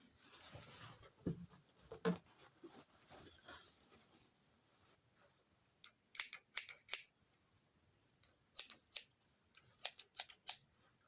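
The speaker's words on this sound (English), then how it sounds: "Big scissors." Big scissors being handled, with soft faint rustles and then sharp metallic snips and clicks in short irregular clusters, close by in a quiet room.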